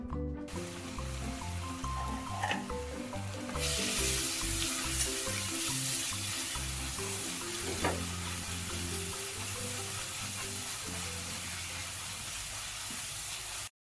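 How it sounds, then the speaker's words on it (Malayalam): Crushed ginger and garlic sauté in hot oil for a Kerala-style tapioca fish biryani, with a steady close sizzle and sputter, occasional stirring clinks and scrapes, and a low background hum. "എണ്ണ ചൂടാവുമ്പോഴേക്കും അതിലേക്ക് നമ്മൾ ചതച്ച് വെച്ചിരുന്ന ഇഞ്ചിയും വെളുത്തുള്ളിയും കൂടി ചേർത്ത് കൊടുക്കുക"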